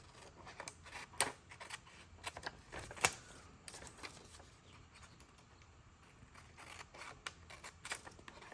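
Scissors snip around a paper journaling card, soft close crisp cuts in an uneven rhythm with a few sharper snips, fairly quiet in a still room.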